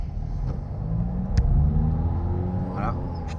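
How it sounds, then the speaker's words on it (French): A learner driver's car pulls away from a stop, its engine rumbling low and rising slightly as it moves off, heard from inside the cabin with brief noises mixed in. "démarre vraiment, voilà, ne cale pas"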